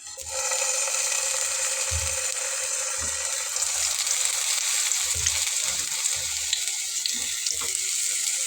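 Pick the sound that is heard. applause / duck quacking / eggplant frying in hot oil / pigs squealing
eggplant frying in hot oil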